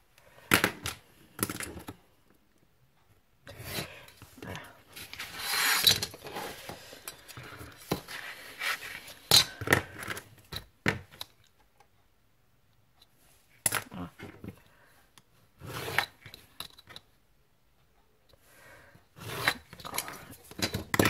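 Paper is cut and handled while a presentation box is made by hand, with repeated crisp snips, rustles and taps in irregular bursts, some close and fairly loud, with pauses between.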